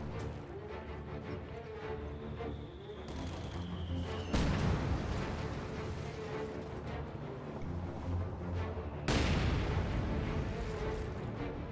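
Mortar fire in a strategy video game: two heavy booms, the first near the middle and the second later, each followed by a rumbling decay, over a low battlefield background.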